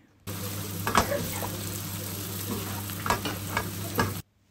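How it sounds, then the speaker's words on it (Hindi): Cardamom, black pepper and cumin fry in hot oil over high heat for a lamb stew: a loud, steady close sizzle broken by a few sharp scraping strokes of a stirring spoon. "आपने सारे मसाले डाल के दो से तीन मिनट के तेज़ आँच पर इनको भून लेना है"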